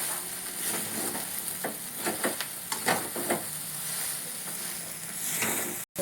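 Pieces of leftover bhakri fry and sizzle in a pan while being stirred, with a constant close hiss broken by a series of irregular scraping strokes and no talking.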